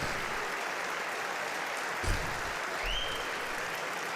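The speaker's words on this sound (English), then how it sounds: "I guess we'll allow them to stand and clap." Recorded applause from lawmakers standing and clapping in the chamber of Congress, a steady distant wash of clapping with a couple of brief thumps.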